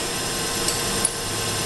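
A Clausing drill press runs steadily at 1200 RPM, a constant even mechanical whir with no change in pitch and a couple of faint clicks. No one speaks.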